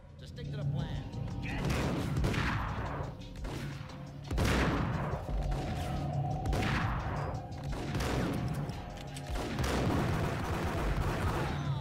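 Repeated gunfire in the Max Payne video game on PC, sharp loud shots bursting every couple of seconds over dense game noise and music, with voices talking throughout.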